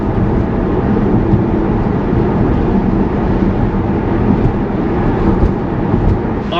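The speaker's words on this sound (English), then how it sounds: "This is just driving on a regular road." Steady road and tire rumble inside a Tesla Model Y or Model 3 cabin while driving on a regular road, a constant broadband hum with no talk.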